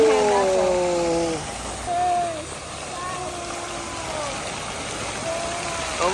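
Loud rushing water flows continuously in Wright Park, Baguio, a dense steady roar with voices briefly talking over it at the start.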